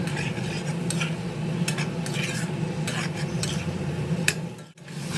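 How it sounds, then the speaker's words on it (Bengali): Potato and pumpkin pieces fry with spices over a medium flame while being stirred hard: a constant sizzle with repeated scraping utensil strokes against the pan and a brief dip near the end, no talking. "আলু ও কুমড়োর টুকরোগুলো দিয়ে চুলার ফ্লেম মিডিয়ামে রেখে খুব ভালোভাবে নেড়ে চেড়ে মিনিট 5 সময় ধরে কষিয়ে নেব।"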